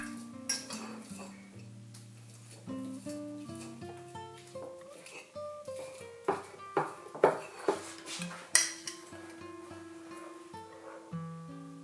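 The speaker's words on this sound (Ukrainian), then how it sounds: "Тому відварені яйця я ось так переминаю виделкою." A fork mashes boiled eggs in a bowl, giving scattered scraping clinks and taps, a few sharper knocks near the end, over steady background music.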